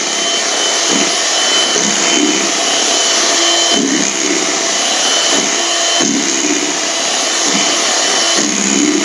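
An electric hand mixer whirs loudly and steadily through chocolate potato cake batter, a constant motor drone with slight rhythmic dips as the beaters move through the bowl, no talking.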